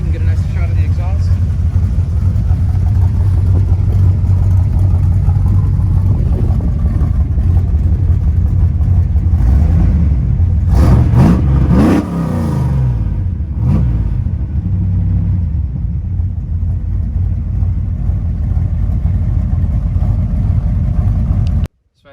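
A truck engine idles with a deep, steady low rumble through its exhaust, then revs up briefly a couple of times mid-clip before settling back to idle; close and loud, with someone talking over it.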